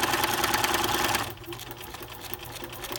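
A sewing machine stitching backwards over its own seam makes a steady, fast mechanical whir that runs for just over a second and then drops to a quieter, slower motor hum and ticking.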